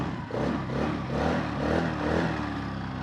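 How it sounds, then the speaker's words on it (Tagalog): A Honda Navi motorcycle engine runs close by, a dense steady mid-range rumble that surges slightly in waves as if lightly revved, with no talking over it. "Yan ang tunog ng isang Honda Navi."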